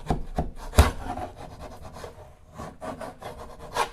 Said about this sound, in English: I'm just going to scrape it to get the head off.